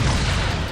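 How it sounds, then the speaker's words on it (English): Plasma torpedoes firing in the Star Fleet Command video game, a short, loud, broadband roaring burst with heavy low rumble, alone with no talk. "So we'll fire up with all of our plasma torpedoes."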